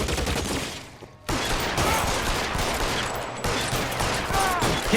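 Sustained gunfire in the L.A. Noire detective game, a dense, continuous barrage of shots with one brief pause, loud and close throughout.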